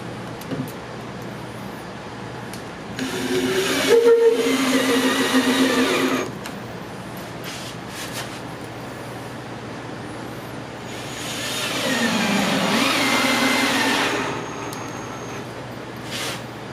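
A power driver sinks screws into the bottom of a wooden beehive kit box in two whirring bursts of a few seconds each, with quiet pauses and faint handling noise between them.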